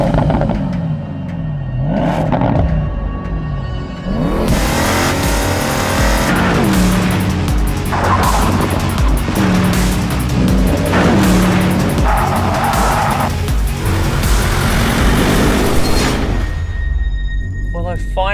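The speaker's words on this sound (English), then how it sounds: "Listen to that engine." 2019 Porsche Panamera GTS with a twin-turbo V8, engine revving and accelerating hard with rising and falling pitch sweeps and some tire noise, loud and close, with someone talking over parts of it.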